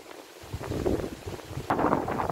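Strong wind gusting across a cherry farm field, buffeting the microphone with a low, uneven rumble that swells and surges louder toward the end.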